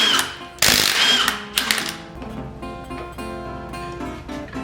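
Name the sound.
removing International engine crank pulley bolts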